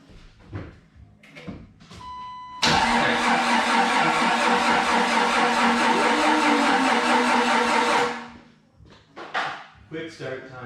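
A high-mileage Jeep TJ being brought back to life cranks and catches, then runs at a steady, loud idle for about five seconds before shutting off, with voices talking before and after.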